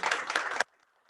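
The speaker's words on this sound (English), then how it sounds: "Please a round of applause for him" An audience applauds at a formal investiture ceremony, a brief burst of many hands clapping that cuts off abruptly, leaving near silence.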